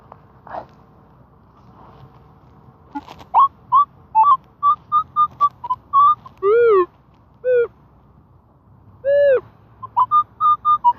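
A metal detector sweeping over a buried target gives a series of short electronic beeps and warbling tones, some rising and falling in pitch, over faint background noise.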